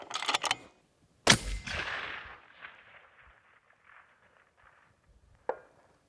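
A .25 Creedmoor rifle fires downrange at a 1,000 range target: a sharp, loud report rings out and echoes away, with a crack before it and another faint crack about four seconds later in otherwise quiet open air.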